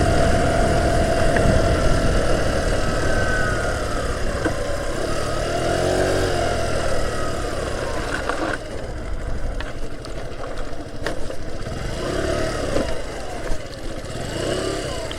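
Revival 50cc motorcycle engine running outdoors, a loud continuous drone that shifts in pitch as the rider eases off and slows, settling into a rougher, lower idle-like putter.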